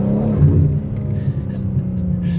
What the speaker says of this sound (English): Man, I love driving this car.